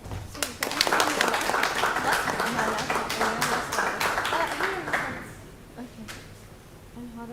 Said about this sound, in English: Please join me in giving a warm welcome and applause to Dhruti Deda.